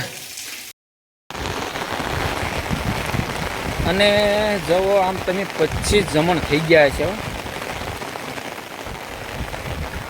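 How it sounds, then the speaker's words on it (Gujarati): Light rain patters steadily on a surface while someone speaks over it; the soft hiss of drops continues throughout. "હવે જોવો તો આજ ધીમો ધીમો ચાલુ થઈ ગયો છે વરસાદ"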